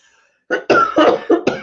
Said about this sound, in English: I'm going to have a coughing fit now